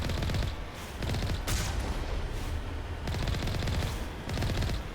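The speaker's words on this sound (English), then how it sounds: "Wait, do I fire the machine gun and the cannon out of the same barrel?" The Mako vehicle's machine gun and cannon firing in the video game Mass Effect Legendary Edition, dense loud bursts of rapid gunfire with brief pauses between volleys.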